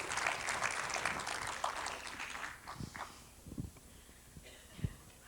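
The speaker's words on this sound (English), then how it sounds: "Round of applause." A convention seminar audience gives a round of applause that is full and close at first, then thins out after a couple of seconds, leaving scattered footsteps and shuffling.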